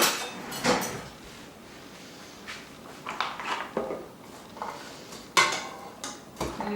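Metal kitchen utensils clatter and clink in a series of short, separate knocks and scrapes while a ladle is picked out during preparation of îles flottantes, close and moderately loud with quiet gaps between.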